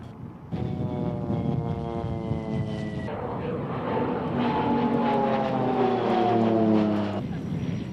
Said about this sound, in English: Pilatus always make robust, well-engineered planes, and the PC-7 is no exception.